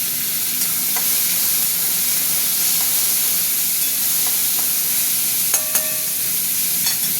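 Onion and tomato frying together in a pan for a potato and pointed gourd curry, a loud steady sizzle and hiss close by, broken by a few clinks and scrapes of stirring.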